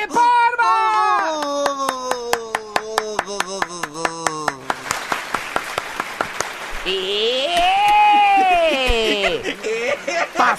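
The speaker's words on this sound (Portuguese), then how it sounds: "Uma salva de palmas!" Studio audience applause and cheering on a Brazilian morning radio show, swelling in the middle of the clip amid loud music, drum hits and voices.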